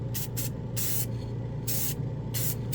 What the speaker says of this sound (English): This is Revell spray paint out of the can.